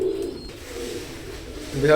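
Banded Oman Teddy pigeons coo in low, soft rumbling calls close by, with a louder coo rising at the end and a voice in the background.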